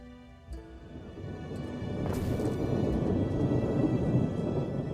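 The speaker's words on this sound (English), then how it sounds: "Loud thunder noise. Just rain, rain, rain" Thunder and rain in the city-building video game Anno: a deep rumble swells after a quiet start and gives way to dense, steady rainfall that fills the rest of the moment.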